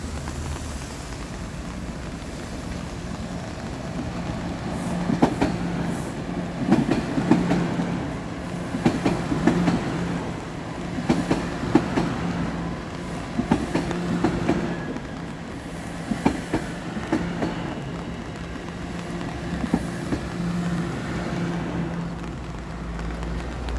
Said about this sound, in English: There's got to be a train coming soon.